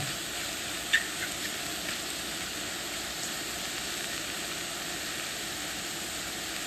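Mushrooms sautéing in a skillet, cooked with white wine and garlic, give off a steady, quiet sizzling hiss that runs evenly throughout with no talking.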